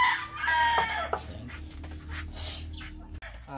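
Breeder chickens clucking nearby with a rooster's crow rising out of the flock, steady farmyard noise throughout.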